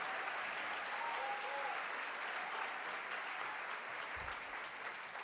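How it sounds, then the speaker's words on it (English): An audience at a recovery awards event gives continuous, even applause, a broad wash of clapping at steady volume with a faint voice briefly audible beneath it. "applause, right?"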